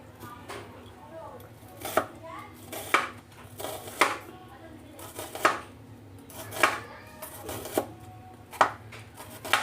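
Onions being sliced on a board in a kitchen for dinakdakan, giving a steady run of sharp knife chops a second or so apart, close and clear, with light clinks of utensils and faint voice in the background.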